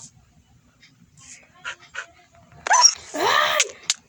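Minecraft dog panting and whimpering in close, short bursts of yips and whines, with a few quieter sounds beforehand and faint talk at the start.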